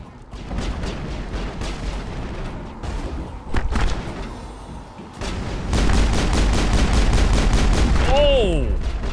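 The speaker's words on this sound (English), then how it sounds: "I can deal quite a bit of damage with the pistol" Pistol gunfire in the video game Mass Effect, with scattered shots and thumps at first, then a fast, evenly spaced run of loud shots, and a sweeping electronic tone near the end.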